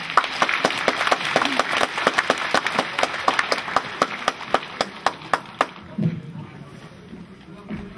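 Audience clapping at a special lecture welcoming a former Gyeonggi governor, a steady stream of sharp claps with some louder cracks, fading out near the end into a quiet room with a brief low murmur.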